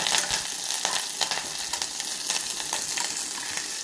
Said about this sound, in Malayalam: മുരിങ്ങയില തട്ടി കൊടുത്ത് അതിനൊന്ന് ഇളക്കി അതൊന്ന് വാടി വരട്ടെ.